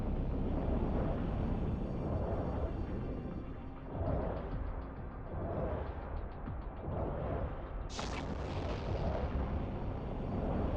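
Missiles fire from a ship in the space game Eve Online as a dense, booming roar of repeated launches and blasts, with rhythmic swells and a sharp burst near the end, loud and continuous.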